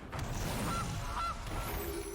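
A goose honks twice in the Gilded Goose card effect in the MTG Arena card game, two short, clear honks over steady game background sound.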